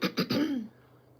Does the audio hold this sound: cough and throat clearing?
yes